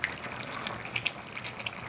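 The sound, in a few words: Kerala chicken curry boiling in a pot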